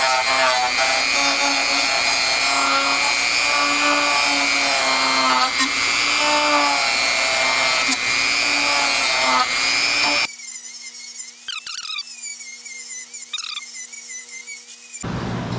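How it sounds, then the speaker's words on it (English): A power buffer fitted with a green fret-polishing buff runs at slow speed over the frets of a Strat-style guitar neck, a loud steady whine with slight shifts in pitch as it moves back and forth, then it stops and light handling sounds follow. "take the green buff from Stu Mac, the fret buffing, and go back and forth here at a slow speed"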